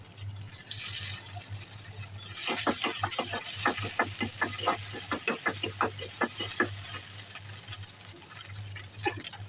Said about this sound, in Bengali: আজ পেঁয়াজ রসুন ভাজা হয়ে গেছে এখন আমি শাক দিয়ে দিব